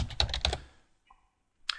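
Quick burst of keystrokes on a computer keyboard while filling in a compliance audit tool, close and crisp, then a pause with a faint click and a final keystroke.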